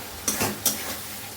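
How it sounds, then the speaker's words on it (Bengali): Onion, garlic and ginger masala is stir-fried in a pan, with two quick spatula scrapes over a low background sizzle. "পেঁয়াজ রসুন আদা সব কিছু দিয়ে এখন ভালো করে কষিয়ে নিই মশলাটাকে"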